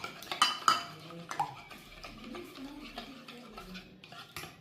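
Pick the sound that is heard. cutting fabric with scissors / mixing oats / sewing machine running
mixing oats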